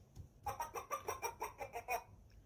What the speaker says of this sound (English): and Camellia singing